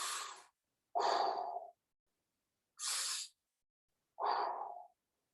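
Slow, relaxed breathing during a yoga stretch: four distinct breaths, alternating soft airy inhales and fuller exhales, separated by quiet pauses, close and alone.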